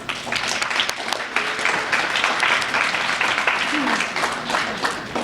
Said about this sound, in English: if you would all give yourselves a round of applause.